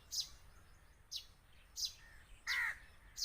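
Harsh crow caws come in spaced single bursts near a threatened myna chick, about five calls in three seconds, the last one longer and louder, over a quiet outdoor background.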